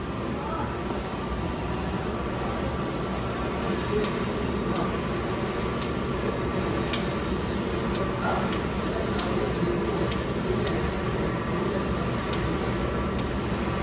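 A Smart 6-foot single-head sublimation printer runs with a steady mechanical hum and whir, with faint light ticks recurring throughout at a constant level.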